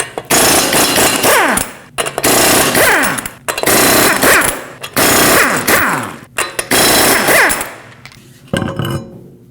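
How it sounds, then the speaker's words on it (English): Impact wrench bursts removing the five lug nuts from the rear wheel of a 2020-2027 Toyota Corolla with a 21mm socket, five loud, close rattling bursts of about a second each with short gaps, trailing into quiet. "Now you can use a 21mm socket, remove all 5 lug nuts, and then pull the wheel off."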